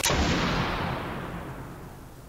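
A single loud gunshot in Spec Ops: The Line, a sharp close blast at the start that decays into a long rumbling echo and fades out with no talk.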